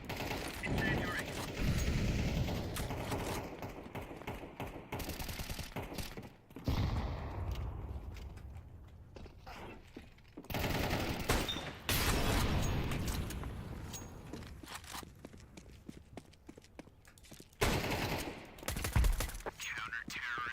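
Rapid gunfire from the video game Counter-Strike 2 during an EWC 2025 grand final esports match, coming in repeated sharp bursts and volleys separated by brief lulls, with faint commentary in places.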